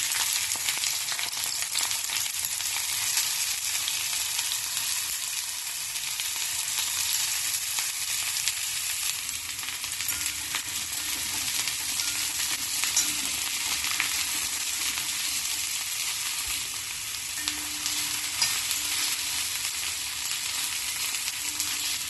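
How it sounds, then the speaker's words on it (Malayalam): Sliced bitter gourd frying in hot sesame oil, a continuous even sizzle with soft crackling held steady throughout, no voices. "എണ്ണ ചൂടാവുമ്പം എടുത്തു വെച്ച കൈപ്പക്ക എടുത്ത് എണ്ണയിലേക്കിട്ട് വറുത്തെടുക്കാം"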